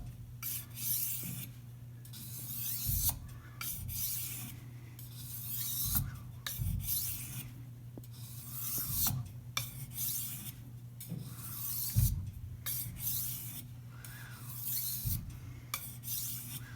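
Knife being sharpened on a whetstone with X-pattern strokes, repeated gritty rasping scrapes in a steady back-and-forth rhythm, close and moderately quiet.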